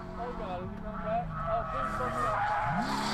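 A drift car at a Lone Star Drift competition round understeers off course, tires skidding and squealing over a revving engine, with another car audible nearby. A commentator talks over it.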